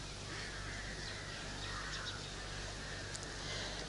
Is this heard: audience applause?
no